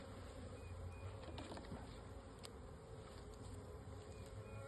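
Honey bees swarming and buzzing around an open package during installation, a faint continuous drone of many wings with occasional brief louder passes close by.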